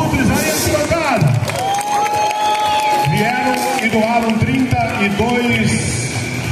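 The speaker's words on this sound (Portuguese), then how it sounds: "Um aplauso aos Abutres aí, arquibancada." Stadium crowd in the grandstand at a freestyle motocross show in Caraguatatuba cheers and applauds, a loud wash of clapping and shouts under an announcer's voice booming over the PA.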